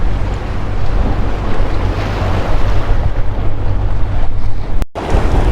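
Rushing water and surf roar continuously around a boat under steady wind buffeting, loud and close, with a brief dropout near the end.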